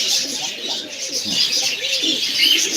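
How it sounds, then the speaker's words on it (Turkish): Pigeons in a loft cooing close by, soft repeated low coos over a constant bright hiss of background noise and faint chirps. "Burada bir takım kuşum var."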